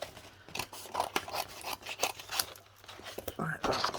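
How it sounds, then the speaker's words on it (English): Scissors cutting cardstock at a papercraft table, a series of close, crisp snips in an irregular rhythm, heard under soft talk. "So all I do is just eyeball it and cut up"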